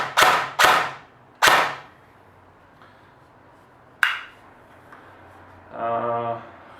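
An NPO AEG SR3M airsoft gun with a suppressor fires a few sharp, loud snapping shots close by, then after a pause a single crack and a short buzzing whir near the end.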